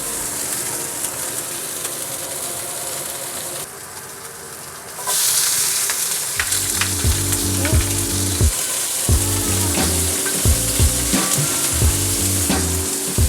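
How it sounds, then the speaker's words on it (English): Asparagus frying in olive oil in a pan beside searing steaks, a steady loud sizzle that swells as the spears go in, with stirring and clattering knocks of pan and utensils through the second half; no talk. "let's get some more olive oil on our pan and let's put the rest of our asparagus in the pan"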